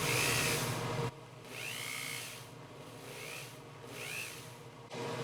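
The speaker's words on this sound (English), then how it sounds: "go a little further in the ball burr. See if I can't get some extra space for the bottom of the stone" A ball burr on a rotary tool grinds a stone seat into a 24K gold ring, heard as several high whining bursts of a second or so each, separated by brief pauses, close and fairly loud.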